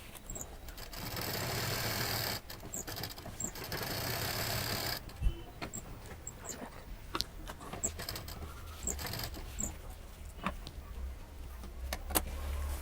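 A sewing machine stitches fabric for a homemade office bag, a steady fast whirring run broken by brief pauses and clicks, close and fairly loud with no talk.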